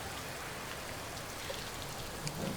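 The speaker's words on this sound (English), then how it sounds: "When we cut back to them, are you going to put the rain back on?" Steady rain sound effect played during a tabletop game session, a constant dense hiss of falling drops with no talking.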